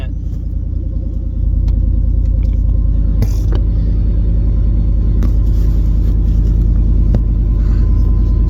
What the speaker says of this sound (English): So I'm gonna let this truck warm up